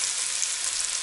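Chopped liver and onion fry in a pan with a steady, dense sizzle that holds at an even level throughout, with no voices present.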